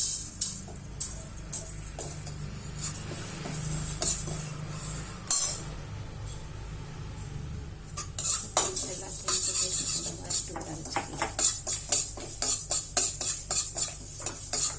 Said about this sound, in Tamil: நல்லா பொடிக்கிற சத்தம் இருக்கணும் பொடி எள்ளு வந்து பொடி பொடியணும் பொட் பொட்டணும்